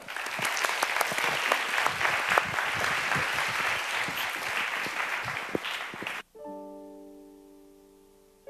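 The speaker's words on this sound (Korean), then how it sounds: "뜨거운 박수 부탁드립니다." Warm applause at a church youth worship service rolls on as thick, even clapping for about six seconds, then cuts off sharply into a sustained electronic organ-like tone that slowly fades.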